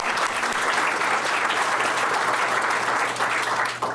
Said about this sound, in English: We need to give you another round of applause